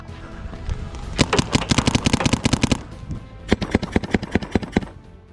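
Bursts of airsoft covering fire in a squad game near a flag: two long runs of rapid, sharp shots, the first lasting over a second and the second shorter after a pause, loud and close with no talk.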